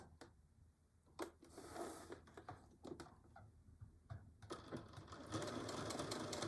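Sewing machine stitching a Betty Boop pillow cover, running in a few short bursts with brief pauses between, close and clear over a quiet room.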